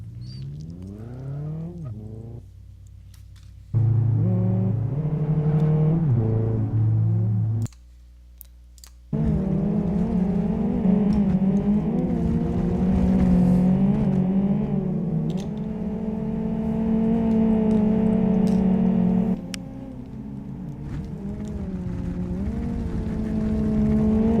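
Race cars in the DC Solar Cup Series pulling out of the pits for a qualifying run, engines whining and rising in pitch as they accelerate, with steady droning from several cars, some clicking, and a brief cut to near silence partway through.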